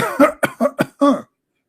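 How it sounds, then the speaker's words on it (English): Five sharp coughs in quick succession, close and loud, each a short rough burst, followed by silence. "Okay, I will cough more."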